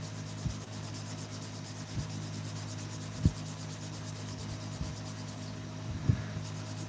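Pounamu greenstone roimata pendant being sanded by hand through successive grits: a faint, continuous scratchy rubbing with a few brief sharper knocks at irregular intervals, close and without talk.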